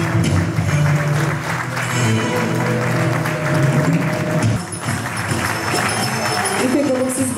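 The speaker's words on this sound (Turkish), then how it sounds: "Alkışlarımız genç yetenekler için." An audience applauds young talents at a cinema-sector event, with a sustained wash of clapping under a steady hum of voices and background music, staying loud throughout.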